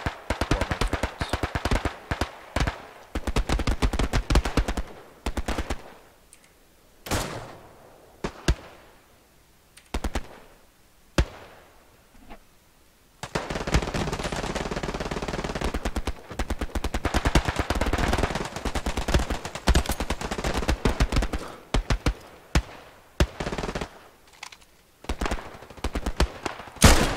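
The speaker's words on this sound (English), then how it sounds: "I blew him up and shot him." Gunfire and explosions in Hell Let Loose ring out in dense rapid bursts of automatic fire and single shots, with a sustained barrage in the middle and scattered loud cracks around it, nearby and loud.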